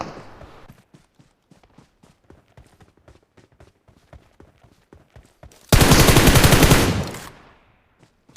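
Gunfire in the BGMI mobile battle game: a short, loud burst of rapid automatic fire, close, after several seconds of quiet footsteps and scattered clicks, then fading out.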